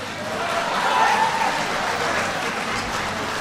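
Applause at a Chicago community meeting about a planned migrant shelter, a steady wash of clapping from the room that holds evenly throughout.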